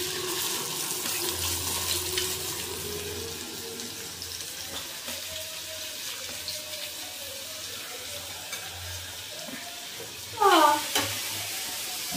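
Onions fry in a hot pan in a home kitchen, giving a steady low sizzle with soft stirring scrapes throughout and a brief louder clatter near the end, heard close with no speech.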